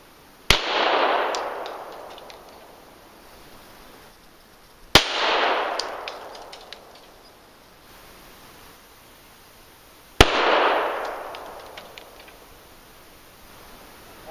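Three sharp Glock pistol shots fired at a target hanging upside down from a string, each a loud crack with a decaying echo, spaced about five seconds apart with quiet between.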